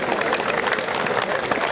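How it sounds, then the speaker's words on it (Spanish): A crowd at a birthday event applauds to welcome Evodio Velázquez, a brief, dense and even wash of many hands clapping close by and fairly loud. "ahí viene más fuerte el aplauso para recibirlo como se merece nuestro amigo"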